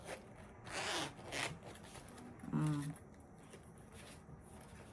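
Zippers on a new bag are pulled open in short, close rasping strokes, with quiet rustling and handling in between, and a voice speaking softly nearby.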